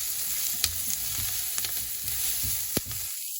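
Onion and whole small uncut tomatoes frying together in a pan for a dry-meat curry, a steady close sizzle broken by a few sharp clinks of a stirring spoon.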